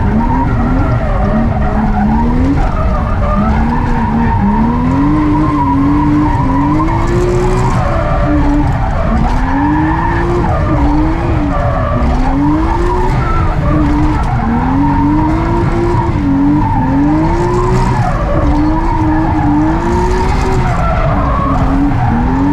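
A car drifts on a skid pad with loud, continuous tire squeal and skidding, while the engine rises and falls in repeated rev swells close by throughout.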